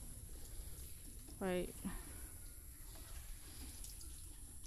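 Morning rain falls outside a small neighborhood store as a faint, continuous hiss, with one short spoken word partway through.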